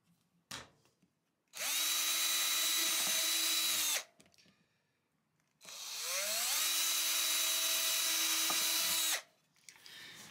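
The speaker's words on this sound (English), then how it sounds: "I've gone through a couple different bits to get to this point." A power drill bores holes in a metal license plate while building a guitar, running in two long, loud, steady whining bursts separated by a brief pause.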